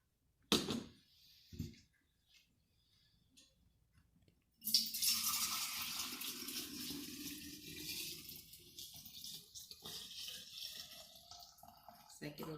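Homemade chicken bone broth is poured into a glass jar, a few knocks of the jar first, then a long steady liquid pour that runs on to the end.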